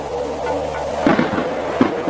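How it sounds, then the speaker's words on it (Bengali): Thunder crashes in a stormy scene of a Bengali horror audio drama, heard as two deep rumbling bursts over a steady background roar, with no voices. "কর্কশ শব্দে বাজ পড়তে থাকে"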